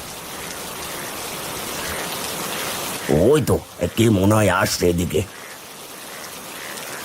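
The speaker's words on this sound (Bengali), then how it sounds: "সকাল থেকে যা বৃষ্টি শুরু হয়েছে" Steady rain pours down outdoors in a continuous, even hiss, with a voice speaking briefly partway through before the downpour carries on alone.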